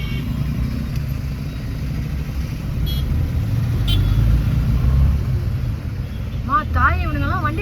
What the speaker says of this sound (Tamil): இவ்வளோ வண்டி இருக்கு.